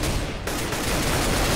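Dense, loud gunfire in the video game CS:GO, where a sniper rifle is in play, forming a continuous barrage that fills the short moment without pauses or voices.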